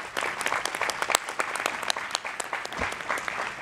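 Audience applause for the competing teams at a national personal finance challenge event, a steady dense patter of many hands clapping at moderate loudness, with a few sharper claps standing out.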